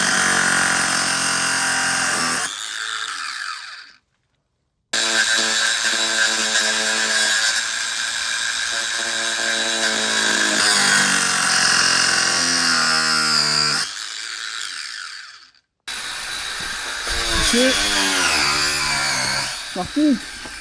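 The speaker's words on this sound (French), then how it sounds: "moi je vais poncer" Power sander working on the underside of a boat hull below the waterline, a loud continuous whine that stops briefly, restarts and runs on for most of the stretch.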